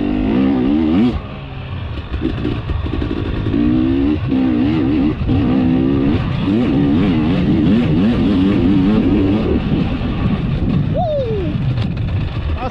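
A motorcycle ridden on a warm-up lap with the rider standing on the pegs, its engine droning close and loud throughout, pitch rising and falling with throttle, and a voice briefly audible over it.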